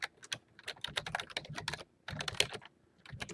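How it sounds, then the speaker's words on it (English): Computer keyboard typing a full file URL, rapid clattering keystrokes in two bursts separated by a brief pause, close and fairly quiet. "we're actually just going to type in the full"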